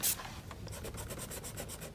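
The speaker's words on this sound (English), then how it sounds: "So once I've got my main lines, I can erase the unwanted ones" An eraser rubs out pencil lines on paper in a drawing of a twisting leaf, with quick, even back-and-forth strokes repeating steadily and close up.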